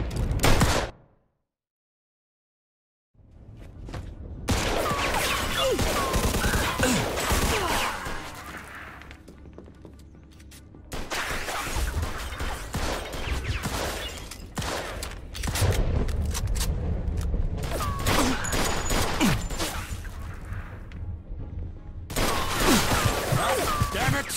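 Gunfire crackles through a film shootout, rapid bursts of shots and fusillades after a brief silence, loud and close, mixed with shouting voices.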